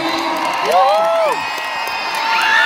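Concert crowd at a show at Coca-Cola Arena in Dubai cheers loudly, with high whoops and shouts rising above the roar of the audience for a welcomed guest.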